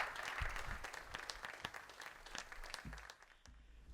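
Audience applause at a veterans' symposium, a dense, steady clapping that fills the space for several seconds before easing slightly near the end, with no voices over it.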